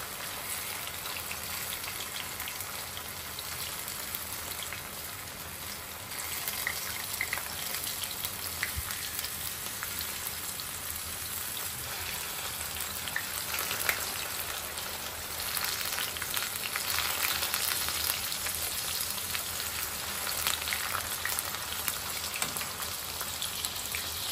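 Okra slices frying crisp in a pan of oil, a steady, dense hiss and crackle with a rain-like patter running throughout and swelling slightly toward the end.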